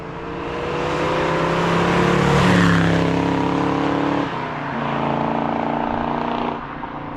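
A 1969 Ford Mustang Mach 1 with a 428 Cobra Jet V8 and five-speed manual cruises along: a loud, close, steady engine drone swells, dips briefly at a gear change, then settles into an even pull.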